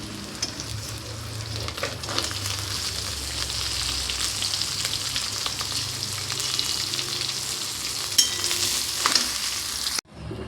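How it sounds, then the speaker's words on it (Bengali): Small mourala fish frying in hot oil produce a continuous, fairly loud sizzle with occasional utensil scrapes, which cuts off abruptly near the end. "আমার মাছটা ভাজা হয়ে গেছে"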